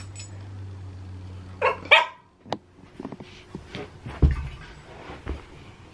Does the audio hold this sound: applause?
no